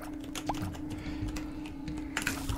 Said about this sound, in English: You can probably hear my keyboard going absolutely nuts at the moment.